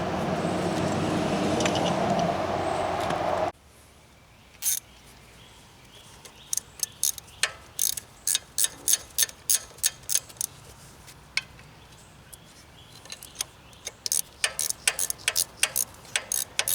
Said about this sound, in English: I think I'm going to have to go get a ratcheting wrench